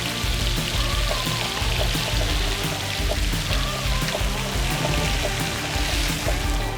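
Crispy whole pork belly sizzling on a grill, a loud steady rush of fizzing and crackling that sounds like a flowing stream or waterfall, continuous and close, with no talk over it.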